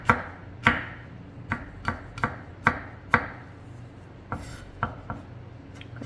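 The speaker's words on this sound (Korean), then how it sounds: "그리고 채를 썰어서" Knife on a cutting board slicing garlic into thin strips, about a dozen crisp, separate chops at an uneven pace, close and clear against a quiet room, no talking.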